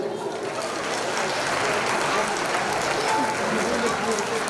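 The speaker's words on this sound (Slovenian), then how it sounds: "tako da damo en aplavz za Augsburg" A crowd at a Slovenian community gathering applauds a folk dance group, giving a thick, steady wash of clapping that stays even for the whole stretch without pause.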